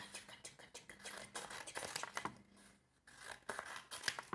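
Scissors snipping through printed paper domino pieces, a quiet close run of short crisp cuts and paper rustles with a brief lull midway, no talk.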